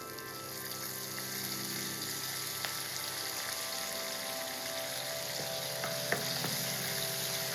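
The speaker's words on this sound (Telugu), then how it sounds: "ఇప్పుడు ఈ కూరకు సరిపడా ఆయిల్ని మనం ఇందులో వేసుకుందాం దీంట్లోకి ఒక స్పూన్ ఆవాలు ఒక స్పూన్ జీలకర్ర కరివేపాకు కూడా బాగా మెత్తగా నలిపి వేసుకుందాం" Mustard seeds, cumin and crushed curry leaves fry in oil in a pan, giving a steady, even sizzle with a few small pops and clinks.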